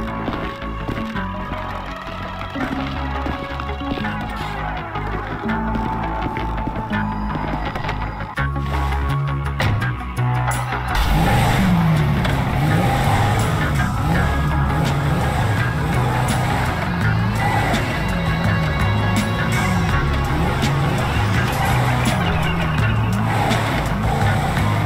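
Car driving in Grand Theft Auto V, a steady engine drone with tire noise and music-like game audio, growing louder and busier partway through, with no talk over it.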